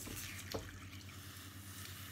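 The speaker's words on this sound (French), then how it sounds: "Donc je mets de l'eau chaude" Faint hot water poured into a pot for watercress soup, a soft steady trickle under a low background hum.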